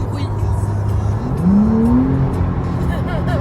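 Porsche engine revving with a louder exhaust at around 100 km/h, a steady drone that swells into a rising rev midway, close and loud, with road noise underneath.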